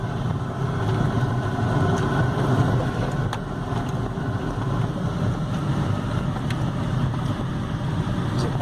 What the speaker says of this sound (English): Boy riding a motorcycle.